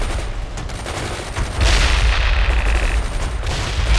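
Gunfire in the real-time strategy battle game World in Conflict: dense, overlapping bursts of rifle and machine-gun fire crackle continuously, swelling into a heavier, louder barrage about halfway through.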